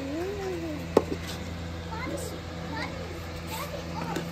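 A cat at a village home gives several short, rising-and-falling meows, fairly close, with a sharp knock near the start and people talking softly throughout.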